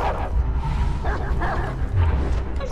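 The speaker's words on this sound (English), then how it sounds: "I'm fighting two dogs." Dogs bark, yip and whimper in a fight sequence from the video game Beyond Two Souls, a short, dense burst of loud animal noise.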